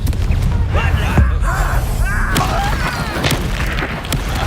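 A fiery Confringo spell blast from a Hogwarts Legacy duel bursts out with a loud boom and crackling impacts, set among dense battle noise, gasps and shouted voices.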